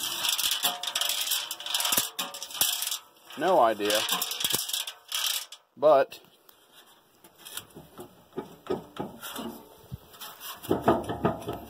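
A worn bearing on the drum of a New Holland 1400 hay baler rattles with bursts of metallic clicking and grinding, along with a few brief words of speech.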